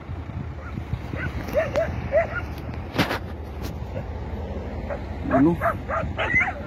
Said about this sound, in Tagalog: Oh, marami pala dito ng aso.